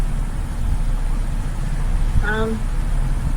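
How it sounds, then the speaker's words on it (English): A Stanley blower fan runs inside a parked 2010 Honda Civic, making a steady low whooshing rumble heard up close, with a brief vocal sound partway through. "I am using the Stanley blower fan so that I don't roast in the car"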